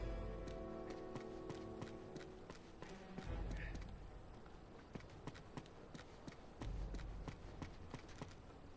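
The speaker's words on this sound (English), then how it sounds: "Now all we need is a horse." Horse hooves clip-clop in the video game Uncharted 2: Among Thieves, a faint, steady run of hoofbeats over a low rumble, with brief voices mixed in.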